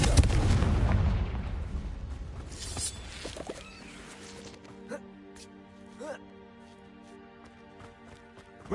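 Explosive blasts from the Confringo spell in the Hogwarts Legacy video game: a loud rumbling boom opens, then sharper, fainter cracks and pops follow over game music, with a voice speaking briefly.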